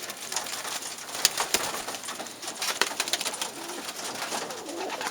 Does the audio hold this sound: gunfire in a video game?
no